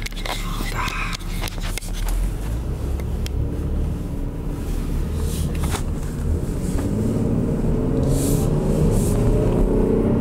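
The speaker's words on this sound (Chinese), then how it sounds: "虽然引擎声音很大，对吧？" A Jeep Grand Cherokee 3.6 V6 rumbles loudly and steadily from inside the cabin while driving, with road noise and a few knocks, gradually swelling.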